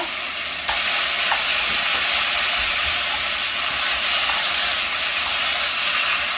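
Potatoes with carrots and onion stir-frying in a pan over medium heat, giving a loud, steady, close sizzle that hisses on without a break, with no voices over it.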